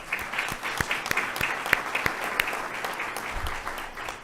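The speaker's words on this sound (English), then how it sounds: "So just a round of applause to all the business owners out there." Steady audience applause at a city's State of the City address, a continuous patter of many hands clapping at moderate volume with a few sharper individual claps standing out, no talking over it.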